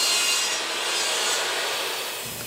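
A handsaw cutting scrap wood for workbench front panels, a continuous close rasping stroke that fades slightly toward the end, with no talking.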